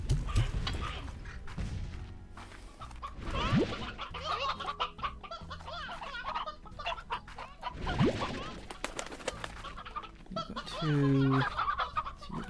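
Briar hens in Slime Rancher clucking repeatedly at close range, with sharp squawks and gobble-like calls over a busy game background.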